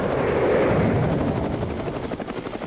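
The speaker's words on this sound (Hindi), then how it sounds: "बस एक हेलीकॉप्टर बचा हुआ था" A cartoon helicopter gives off a loud, steady rotor drone that holds for the whole stretch, with no talking.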